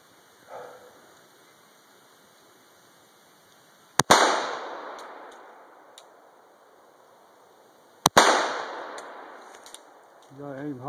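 Two loud, sharp gunshots about four seconds apart from a refurbished Glock 41 Gen4 pistol at an outdoor range, each crack followed by a ringing echo decay, with faint background noises between.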